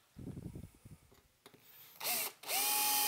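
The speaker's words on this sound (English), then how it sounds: "I feel confident enough to go ahead and just drill these out." A power drill bores holes in a chassis being fabricated for an EL34 tube amplifier, starting after some soft handling noises with a short whir, then rising to a loud, steady high-pitched drilling whine.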